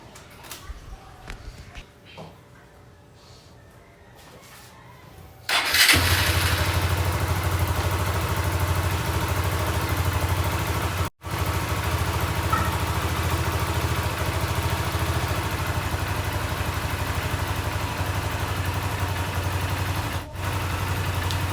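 A Honda XR150L motorcycle fitted with a 63.5 mm big-bore engine starts after a few seconds of quiet shuffling. It then settles into a loud, steady idle close by, with one brief dip partway through.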